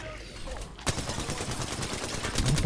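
Rapid, loud bursts of automatic gunfire in the video game Apex Legends, firing close and continuous with barely a pause, and a player's voice is heard beneath it.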